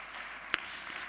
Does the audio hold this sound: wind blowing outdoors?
no